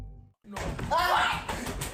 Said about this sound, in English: a loud, violent banging slammed against their room door